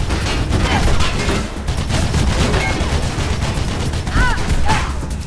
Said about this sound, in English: He's a bad shot, although he does have a machine gun.